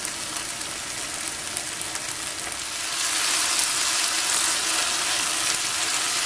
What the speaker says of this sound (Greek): Σοτάρουμε καλά το πελτέ για να βγάλει τα αρώματά του.